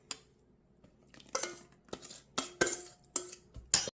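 Wet oatmeal muffin batter with orange, dates and cranberries is scraped from one bowl into dry ingredients, giving a few sharp spoon clinks against the bowl and soft wet scraping sounds, close and intermittent, with no talking.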